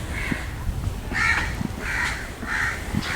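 Several crows caw at Sungei Buloh Wetland Reserve, Singapore in a repeated series of harsh calls, about four bursts in quick succession, fairly close.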